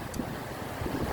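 Steady wind blows across the microphone beside water with a leaning tree, a soft continuous rush with low buffeting and faint water sounds underneath.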